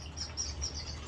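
Gouldian finches in a breeding aviary give soft, high chirps that repeat every few tenths of a second over a low steady hum, faint and slightly distant with no talking.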